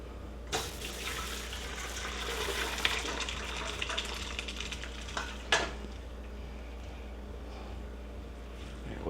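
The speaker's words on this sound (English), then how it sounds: "I'm going to pour this through a strainer into a bowl" Cooked soft beans and their cooking water pour through a strainer into a bowl, a continuous splashing gush for several seconds with a couple of sharp clanks, no speech.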